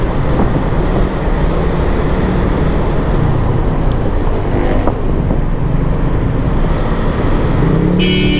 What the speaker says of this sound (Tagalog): Busina ka, matraffic na nga, busina ka pa eh.